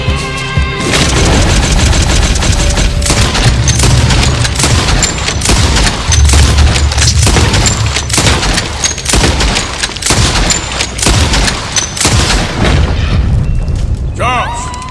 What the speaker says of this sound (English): Time for a mag dump.